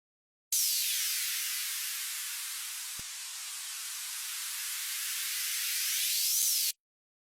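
A white-noise riser and downer effect built in FL Studio: a loud, steady hiss that fades into a dip around the middle and then swells back up before cutting off abruptly, with no voices.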